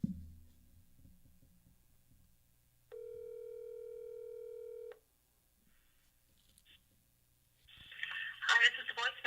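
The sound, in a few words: telephone dialing a lawyer's number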